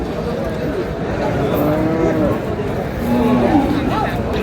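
Large bulls and cattle at a livestock market in Dhaka, traded ahead of Qurbani, moo repeatedly against a dense crowd murmur, with people talking nearby throughout.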